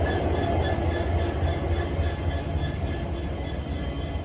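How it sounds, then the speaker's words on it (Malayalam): Locomotive of a Vistadome tourist train running from New Jalpaiguri to Alipurduar, a steady loud rumble with low engine drone and faint tonal hum, continuous throughout with no talk. "ഈ ലോക്കോമോട്ടീവിന്റെ ശബ്ദം കേൾക്കാൻ നല്ല രസമല്ലേ?"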